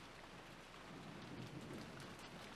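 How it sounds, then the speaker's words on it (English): Rain pouring down in the Rose Guns Days video game, a steady dense hiss of rainfall with a low rumbling undertone, constant and fairly loud throughout with no talking. "As the rain poured down"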